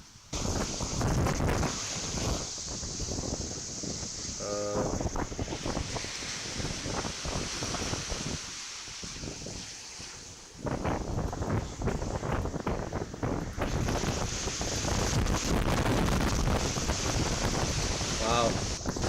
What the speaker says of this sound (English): Wow, strong wind there.